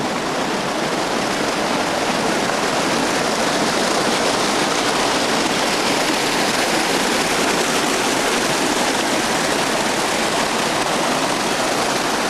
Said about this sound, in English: And there's a nice little waterfall here.